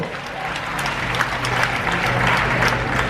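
Audience applause at a hypnotist's show aboard the Celebrity Summit, a dense, steady crowd clapping that holds at a loud level for its full length.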